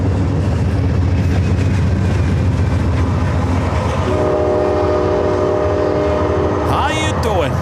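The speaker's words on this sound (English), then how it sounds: "There's a train below us. You can hear it." An Amtrak Surfliner passenger train rolls past below an airport viewpoint in San Diego with a loud, continuous rumble and rattle of wagons, and drawn-out horn tones sound over the passing cars toward the end.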